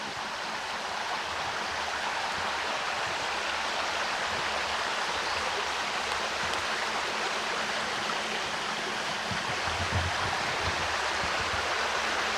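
Steady flowing creek water that supplies a pump rushes in a constant broadband wash, loud and near, running unbroken with no talk.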